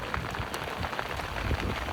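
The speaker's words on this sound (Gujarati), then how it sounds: "મસ્ત મજાનો વરસાદ ધીમો ધીમો આવે છે" Light rain patters softly and steadily, a faint, even hiss of drops with occasional slightly louder taps.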